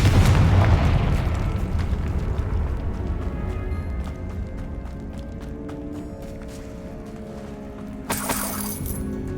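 A Confringo blasting spell goes off in the Hogwarts Legacy video game: a heavy, close explosive boom with shattering debris that decays into a rumbling tail, followed by a brief sharp burst near the end.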